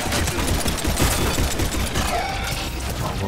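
Heavy sustained gunfire in the shooter Mass Effect 3, a dense, loud barrage of overlapping automatic shots and impacts running continuously without pause.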